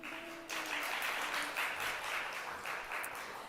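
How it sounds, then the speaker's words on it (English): A church congregation applauds at a Sunday worship service, welcoming the gospel choir; a steady, dense wash of clapping from many hands fills the room without a break. "They're already clapping."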